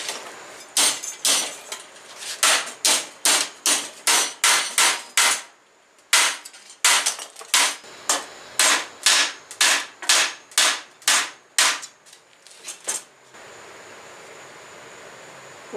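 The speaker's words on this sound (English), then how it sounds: "And now I'm going to hammer it into the piece of angle iron again." Bent 20 gauge mild steel sheet with a TIG weld is hammered onto angle iron: about thirty sharp, loud, close metallic blows in quick runs, with a brief pause partway through and no talking.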